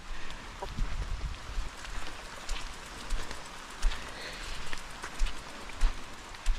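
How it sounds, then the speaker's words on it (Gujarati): Unseasonal winter rain falling outdoors, a steady dense patter on surfaces with occasional heavier drops, continuous and fairly soft, no talking. "અત્યારે હું આજે ભીનો વરસાદ વરસે છે"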